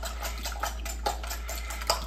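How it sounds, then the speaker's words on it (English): Cream and egg yolks whisked together in a bowl, giving soft repeated scraping and tapping strokes of the whisk against the sides, steady and close, with no talk. "We're going to whisk this a little bit"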